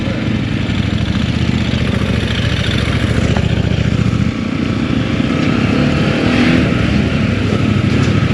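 A 125cc motorcycle engine idles loudly and steadily nearby, with a constant rough drone throughout and no talking.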